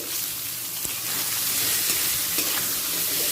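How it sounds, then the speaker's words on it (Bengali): Three medium chopped onions fry in hot oil with a cinnamon tempering. A soft, continuous sizzle with light stirring runs throughout, fairly faint and close. "এই সময় দিয়ে দিচ্ছি তিনটে মাঝারি সাইজের পেঁয়াজকে কুচিয়ে নিয়েছি"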